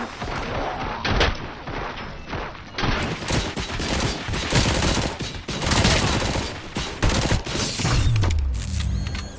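Dense, loud gunfire rattles nonstop in the RoboCop: Rogue City video game, with overlapping bursts, booms and mechanical clatter filling the whole stretch.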